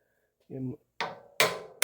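A hammer delivers three sharp, close taps in a quick sequence while fitting C4 Corvette parts into place, preceded by a brief murmur of voice.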